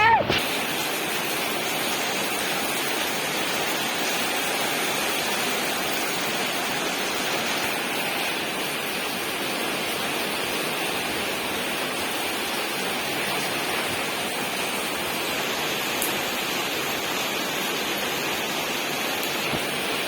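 Steady, dense wash of heavy rain in Yogyakarta, continuous and even throughout with no talk.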